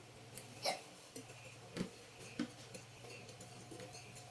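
A spoon stirs banana pancake batter in a bowl, giving a few soft clinks and scrapes spaced about a second apart over a low steady hum.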